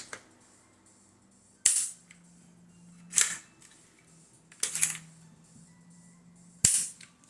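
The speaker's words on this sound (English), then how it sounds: "And a quick trigger check." Sharp, crisp dry-fire clicks from an unloaded Keltec PMR30 pistol during a trigger check, four separate snaps spaced about a second and a half apart in a quiet room, with a faint low hum between them.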